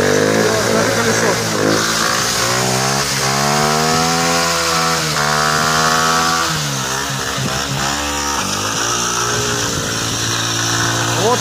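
A Delta moped engine runs close and loud, a buzzy small-engine drone that revs up and down in pitch with throttle changes over several seconds before settling back to idle.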